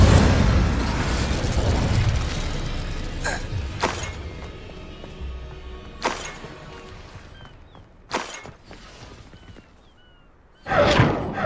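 Incendio fire spell cast in Hogwarts Legacy, opening with a dense roaring burst that fades over a couple of seconds, followed by scattered sharp impact pops and thuds and a final loud whoosh.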